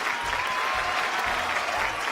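A Malayalam game-show audience claps for Mohanlal fans, a full, sustained round of applause from many people, steady and close from start to finish without voices.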